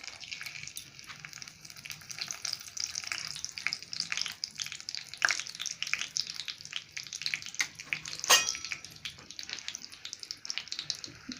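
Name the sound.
whole spices sizzling in hot oil for tempering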